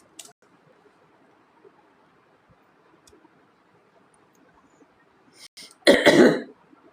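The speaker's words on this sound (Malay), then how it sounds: "Batuk. Sekejap." A single throat clearing or cough near the end, close and fairly loud, after a long stretch of near silence with faint background hiss.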